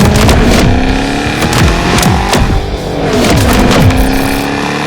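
Loud engine of a supercharged 5.4 2007 Shelby GT500 with six-speed manual on a test drive, revving up and down through several sweeping gear changes, close and alone.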